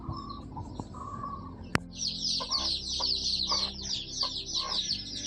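Chickens and small chicks in a home yard, with around forty chicks, peep and cluck in a busy stream of short high calls. A single sharp knock comes early, over a faint low background.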